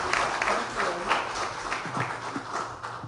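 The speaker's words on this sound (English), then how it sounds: "can we please give our leadership a round of applause" A council chamber audience at a city council meeting claps for its leadership in a short, steady burst, fairly close and continuous with a few voices mingled in.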